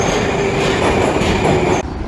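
Trains rumble through a Moscow hub where three railway stations meet, a loud continuous rolling roar with a sustained metallic wheel squeal, then cutting to quieter ambience near the end.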